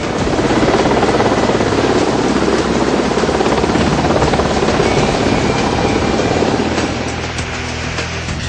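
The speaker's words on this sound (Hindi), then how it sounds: "युद्धपोतों कामोव और सीकिंग हेलीकॉप्टर के करतब भी देखे उन्होंने।" Kamov and Sea King naval helicopters fly stunts from the warship INS Vikramaditya, a loud steady rotor roar with dense chopping texture that fades slightly near the end, no talk.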